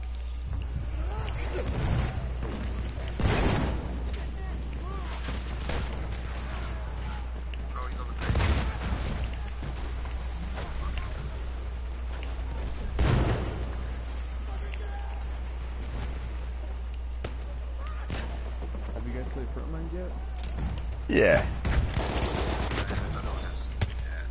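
Anti-aircraft gun and artillery fire in the video game Battlefield 1, with several loud booming blasts spaced through a steady low rumble and other players talking over the top.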